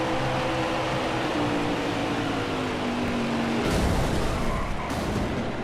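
NASCAR 21 stock car engine droning loud and close, then a harsh broadband skid and scrape as the car gets wrecked, with no talk.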